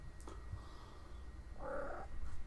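A hungry house cat grumbles with a low, rough purring murmur, then lets out one clear meow near the end, close by and fairly quiet.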